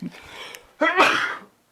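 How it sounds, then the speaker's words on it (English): A person sneezes once close up, with a short breathy build-up before a sharp, loud burst that trails off into silence. "I might have to sneeze again."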